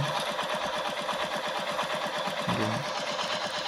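A Royal Enfield Hunter motorcycle engine runs close by with a fast, even thumping pulse, rising slightly as it is revved, loud and steady throughout with no clear talking.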